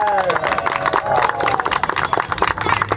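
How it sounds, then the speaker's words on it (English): A crowd claps and cheers for children at an outdoor art project unveiling in Hunts Point, the Bronx, in a dense burst of applause with some voices mixed in. "Please give them a big round of applause."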